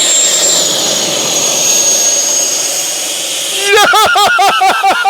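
An FMS Avanti S 90mm electric ducted-fan RC model jet whines loudly as it comes in to land, the high steady tone sinking, then ending in a string of rhythmic wheel thumps and rattles on the runway.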